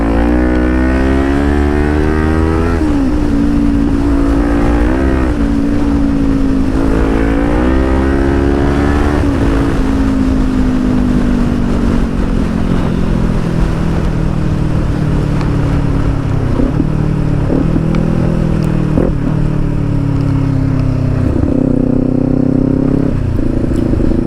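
A Kawasaki Ninja 400 fitted with an Akrapovic exhaust roars loudly and close up, repeatedly accelerating through the gears with rising engine pitch, shifting, and revving on the road for about twenty seconds.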